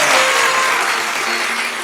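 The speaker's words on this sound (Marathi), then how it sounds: "एकदा टाळ्या होऊन जाऊ देत त्यांच्यासाठी" Steady audience applause at a Marathi comedy show, loud and sustained throughout, many hands clapping together as a dense wash that fades slightly toward the end.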